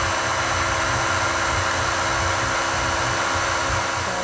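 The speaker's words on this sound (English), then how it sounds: "you want to let the machine go until it's picked up all the little particles that are at the bottom" A stand mixer kneads Easter bread dough, a loud steady motor whir with a low rhythmic churning underneath, continuous and close, with no talk over it.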